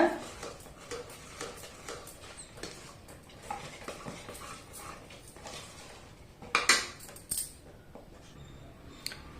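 Moong dal payasam being stirred in a metal pot: a spoon scrapes and clinks against the sides in irregular strokes, close up and fairly quiet, with a few sharper clanks near the end and no voices.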